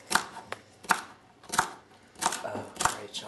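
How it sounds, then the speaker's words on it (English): Celery is chopped with a knife on a board, producing about eight sharp, close knocks in an uneven rhythm, with little else around them. "Now that you've chopped up all the celery"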